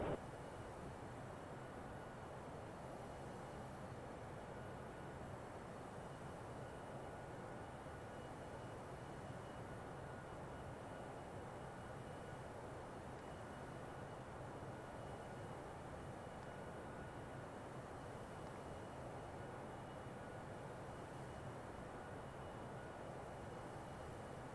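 A ToLiss A319 airliner taking off in X-Plane 11, a steady low engine roar and rumble that holds constant and fairly quiet throughout, with no voices.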